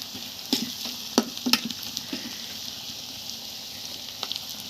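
Onion and chili frying in a pan with a constant soft sizzle, punctuated by a few sharp scraping stirs of a spatula, close and unhurried with no voices.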